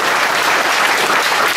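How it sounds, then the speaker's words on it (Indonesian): Audience clapping during a talk at a Buddhist vihara, a dense, even burst of applause throughout. "Tepuk tangan dulu,"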